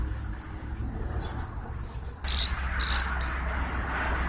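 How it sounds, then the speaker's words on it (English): On a 1979 Lazy Boy B 400H push mower, a ratchet with a 1/4 inch socket tightens the screen screws in several quick, close bursts of rapid clicking over a low background hum. "our screen is installed back in there with a 1/4 inch socket"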